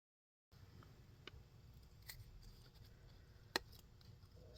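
Scissors snip a journal tab from paper, giving a few quiet, sparse cuts and small clicks over a faint room hiss, with no voices.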